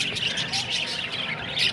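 Parakeets in a bird-keeping spot chirp and tweet continuously, several birds overlapping in quick bright calls that sound fairly close.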